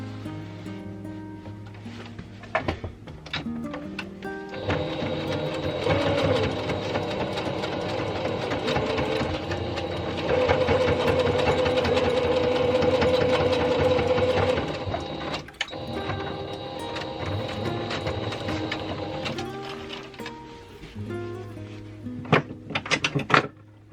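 A sewing machine stitching the edge of a fabric bowl cover runs in long steady whirring stretches, starting and stopping with brief pauses and mechanical clicks, close and fairly loud with no talking.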